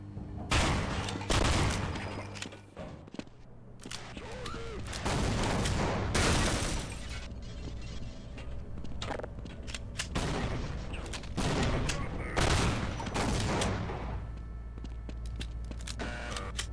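Dense, loud gunfire and grenade launcher explosions from the game Half-Life: CAGED, rapid bursts and booming blasts running almost continuously with brief lulls.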